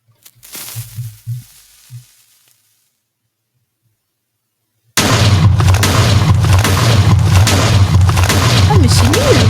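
A TNT explosion in Minecraft with a TNT mod sets off a sudden, loud, continuous roar of blasts and crackling rumble after a few seconds of faint, muffled sounds and silence.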